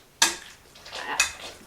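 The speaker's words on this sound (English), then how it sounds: "just mash this together" Sweet potatoes being mashed by hand in a bowl, two distinct scraping clunks of the utensil against the bowl with softer squishing between them, close and fairly loud, with no talking.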